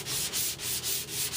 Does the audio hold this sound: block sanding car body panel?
yes